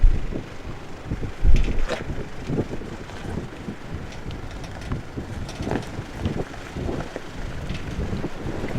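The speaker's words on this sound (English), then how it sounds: "Apologies if a bit of background noise is coming through. It was really windy up there." Wind buffets the microphone in low, gusty rumbles throughout on a mountain descent near Mt Gibbo, with louder bursts of blustery noise and no talking.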